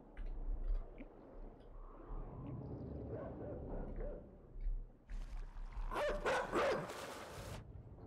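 A dog in the dark puzzle-platformer game Inside barks and yips, with some whimpering, near and fairly loud in short bursts. The calls sit over a rumbling, splashing background and grow most intense toward the end.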